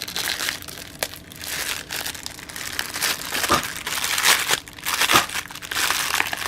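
Crinkly plastic packaging rustles and crackles up close as it is pulled open, with uneven bursts and a few sharper tearing snaps.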